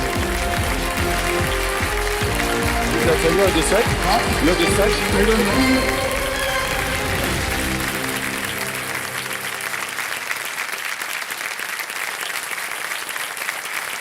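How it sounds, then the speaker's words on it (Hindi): Loud, sustained applause welcoming guests at a formal gathering, a thick wash of clapping that thins and tapers off toward the end. "आइए जोरदार तालियों के साथ एक बार फिर से स्वागत।"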